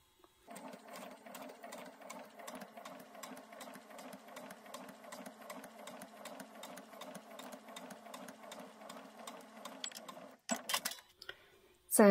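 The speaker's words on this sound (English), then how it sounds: "I'm just sewing these pairs of triangles together with a 1/4 inch seam" Sewing machine stitching pairs of fabric triangles with a quarter-inch seam: a fast, even mechanical whir running for about ten seconds, near and moderately loud, then stopping with a few clunks.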